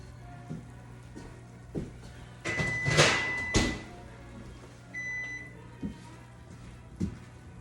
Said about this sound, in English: Now the pie is just about done, so I'm gonna get it out of the oven